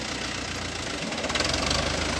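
A Mahindra 585 tractor fitted with a sugarcane cultivator runs with a steady, loud, rough diesel drone and a faint knocking pulse throughout, with no voices.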